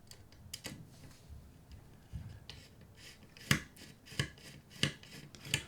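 Snug screws are driven into an X-Wing Manta model, producing faint, close, irregular clicks and small scraping ticks against quiet room noise.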